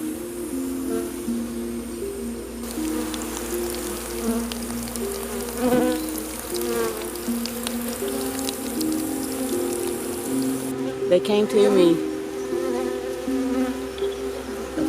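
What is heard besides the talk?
bees buzzing while flying back to their hive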